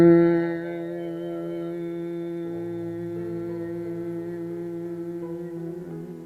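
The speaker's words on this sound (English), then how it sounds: "on the exhale, with your lips still closed, you make a humming sound, kind of like a bee buzzing" Closed-lip humming exhale from yoga bee breath: one long, steady, buzzing drone at low pitch, swelling at the start and holding even for several seconds, close and alone.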